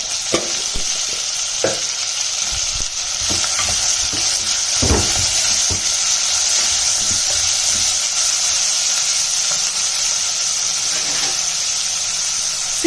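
Sambar masala fries and sizzles in a pan with a steady hiss, broken by scraping stirs and a few clinks of the spoon, with no talk.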